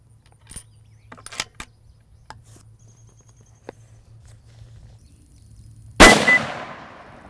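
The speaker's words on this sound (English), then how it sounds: "It's time to shoot a couple more downrange and see where we're at." A single loud rifle shot cracks downrange at a target, its echo tailing off after a stretch of quiet clicks and handling sounds from a shooter using a Zeiss Conquest V6 scope.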